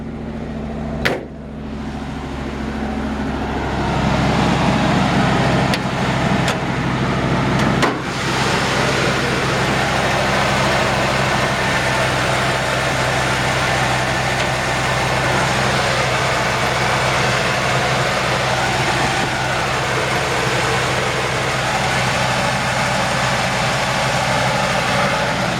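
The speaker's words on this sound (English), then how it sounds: "Idle's just a touch high." A 1951 Ford F1 truck engine idles slightly high while warming up, a steady low rumble running continuously at close range after a brief knock at the start, with no talk.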